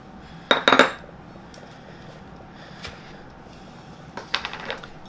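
A Tillamook metal ice cream scooper scraping and clinking against a bowl while scooping ice cream, with a loud cluster of metallic clinks near the start and a second lighter burst near the end.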